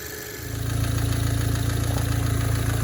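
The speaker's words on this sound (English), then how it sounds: "So what you hear right now is going to be those fuel injectors" An Audi B8 direct-injection engine idles steadily after a short quieter start, with the rapid, even ticking of its fuel injectors over the low rumble.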